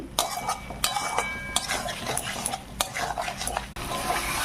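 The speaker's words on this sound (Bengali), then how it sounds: "হলুদ দিতে ভুলে গেছি, এই যে হলুদ একটু দিয়ে দিলাম, দিয়ে ভালো করে কষাবো।" Turmeric and spices stirred and sautéed in a pan for a thin fish curry with papaya and carrot: a spatula scrapes and clinks against the metal in close, irregular strokes over a faint sizzle.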